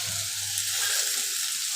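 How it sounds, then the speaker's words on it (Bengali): Potatoes frying in a pan until reddish-brown, the first step of a snake gourd, potato and coconut fry. A steady, close sizzle with no talk. "আলুগুলো লাল লাল করে ভাজা করব"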